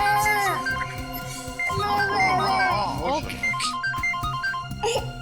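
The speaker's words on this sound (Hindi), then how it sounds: "एसीपी साहब का फोन।" A mobile phone rings for an incoming call in a Hindi crime drama, its electronic melodic ringtone of shifting tones playing over background music while someone speaks.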